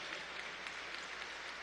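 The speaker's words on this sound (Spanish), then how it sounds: "Un aplauso a nuestra Fuerza Armada Nacional Bolivariana." A crowd at a Flag Day ceremony at the National Pantheon applauds the Bolivarian National Armed Forces, a steady, even wash of clapping heard from a distance, soft and continuous.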